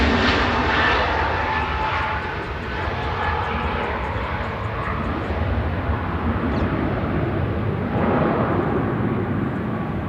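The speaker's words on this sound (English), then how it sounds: "Jet 2, 875 to Faro, that was HLYH departing." A Jet2 airliner departs Manchester Airport, its engines roaring steadily and loudly for the whole stretch, with a broad continuous rumble that holds without a break.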